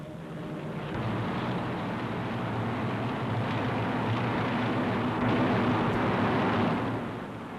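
Massed RAF bombers on a night raid drone steadily, a dense, continuous engine roar that swells in after the first second and holds loud and unbroken before easing slightly at the end, with no talk over it.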